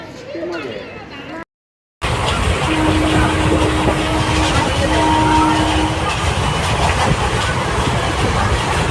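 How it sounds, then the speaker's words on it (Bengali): A train rumbles steadily along after a brief cutout, a continuous heavy rolling noise with faint voices underneath. "ট্রেন ছেড়েও দিয়েছে দেখতে পাচ্ছেন আমাদের ট্রেন চলছে"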